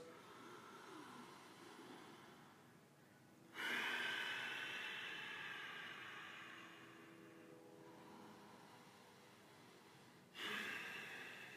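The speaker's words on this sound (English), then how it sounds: "Now I'm breathing extra hard just to teach you the technique." Forceful breaths drawn in sharply through the nose arrive twice as loud, rushing inhales, each trailing off slowly in a quiet room with no talking.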